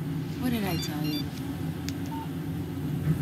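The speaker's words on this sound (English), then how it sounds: "Text message from Barry" In the game Alan Wake, a phone gives a short electronic tone for an incoming text, set against a low in-game hum with a voice speaking.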